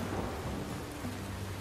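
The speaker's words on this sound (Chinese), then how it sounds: "三人就被一场大雨淋成落汤鸡" Heavy rain falls steadily in a forest campsite, a dense hiss across the whole stretch with low thunder rumbling beneath it, and nobody speaks.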